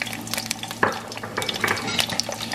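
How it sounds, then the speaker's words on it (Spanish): Garlic, cinnamon, pepper and onion frying in a little oil in a pot, a soft steady sizzle with occasional stirring scrapes and clinks of a utensil against the pan, close by and with no talking. "en una cacerola así con poquito aceite vamos a empezar por freír los ajos, la canela, la pimienta"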